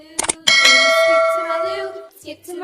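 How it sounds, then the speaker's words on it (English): A bright bell ding rings out after two quick clicks, with a clear ringing tone that fades over about a second and a half, followed by faint softer tones. "press the bell so you never miss a new rainbow drawing"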